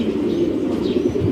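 Pigeon cooing at close range, a low continuous murmuring coo that runs through the whole short moment, steady and moderately loud with nothing else competing.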